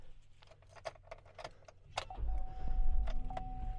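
Keys jangle and clink inside a 2008 Chevrolet Suburban 2500 LT 4x4, a few sharp metallic rattles close by, followed by a steady electronic tone and a low rumble as the vehicle starts.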